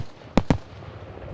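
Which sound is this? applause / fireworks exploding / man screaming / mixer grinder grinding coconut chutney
fireworks exploding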